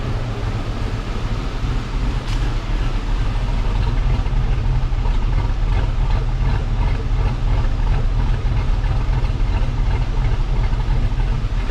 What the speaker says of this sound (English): Right now it's idling at like 600.